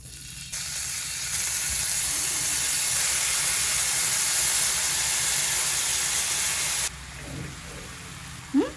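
Pork sizzles in an oiled non-stick pan for Korean BBQ at home, giving a loud, steady broadband hiss that holds for several seconds, then drops off to a quieter sizzle.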